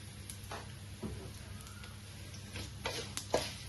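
Asafoetida dropped into hot tempering oil for a bottle gourd and toor dal curry, giving a soft, steady sizzle with faint crackles that grow a little louder near the end.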